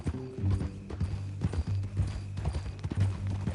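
Horse hooves clip-clop steadily at a walking pace in the western video game Red Dead Redemption 2, close and clear with low game music humming underneath and no talk.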